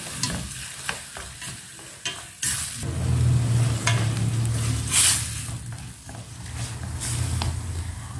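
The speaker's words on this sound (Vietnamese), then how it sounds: "Khi mình xào như thế này gia vị đã ngấm vào trùng trục rồi." Freshwater mussels stir-fried in a pan with sugar, pepper and seasoning, a steady close sizzle with repeated scraping and clanking of the utensil against the pan, with a brief louder hiss partway through.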